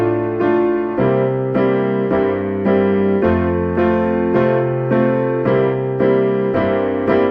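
Piano playing a song, the left hand rocking between root and fifth in a steady bass pattern under full chords, a dozen even beats, close and solo.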